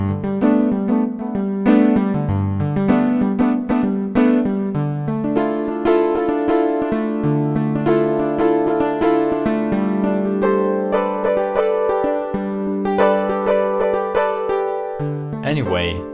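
A sampled acoustic piano patch on a Roland D-10 synthesizer plays a flowing passage of chords and melodic runs with sustained bass notes, clear and close, with no voices.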